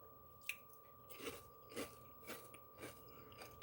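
Crunchy cauliflower buffalo bites being bitten and chewed up close, a handful of quiet, crisp crunches spaced through the clip with no talking.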